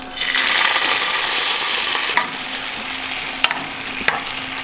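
Gravy poured into a hot pan of sizzling pork chop strips, a steady broad hiss and stir of liquid with a few sharp clinks near the end, close and fairly loud.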